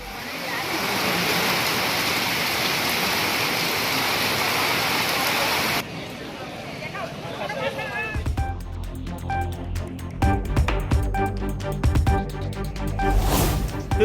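Heavy pouring rain at a crowded hill-circuit temple pilgrimage in Tiruvannamalai, a dense steady hiss filling the first half, then giving way to music and news-style sound mixed over it.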